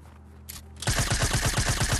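Rapid automatic gunfire in a first-person shooter video game, starting abruptly after a quiet moment and continuing as a steady, loud burst of evenly spaced shots.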